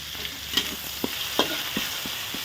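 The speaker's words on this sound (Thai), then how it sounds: "ก่อนอื่นก็ต้องผัดพริกก่อนนะจ้า เอาพริกให้หอมค่อยเอาไปเลงนะ" Chillies stir-fried in a hot pan for Thai chicken kaphrao (holy basil stir-fry) give a steady close sizzle, broken by several sharp scrapes and clacks of the spatula at irregular intervals, with no talking.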